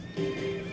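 A horse whinnies in a TV commercial, a clear tonal neigh with a steady pitch holding for about half a second over a faint background bed.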